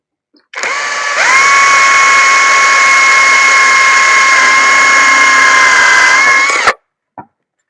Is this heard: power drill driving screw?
yes